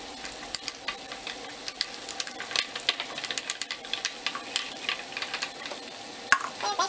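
Continuous scraping and light clinking of a utensil stirring gelatin into water in a container, steady and close, with no talking.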